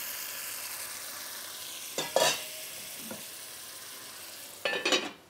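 Morels with sliced shallots and garlic in a pan with a little water, a continuous soft sizzle broken by a few close scraping stirs and clinks of a utensil against the pan, no talking.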